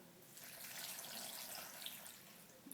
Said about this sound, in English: Big glug of water